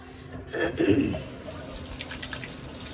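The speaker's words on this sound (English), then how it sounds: "Let me go wash my hands." Water runs from a household tap as hands are washed beneath it, a brief splashing burst near the start settling into a steady, moderate stream with no talking.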